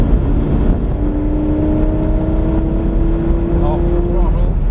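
A Lamborghini on a driving-experience course, its engine holding a steady droning note close by under gentle throttle, with a voice speaking over it.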